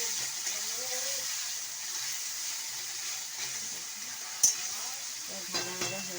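Four chopped onions sizzle steadily in a pan, close and continuous, while a spoon stirs and scrapes through them in a few short strokes.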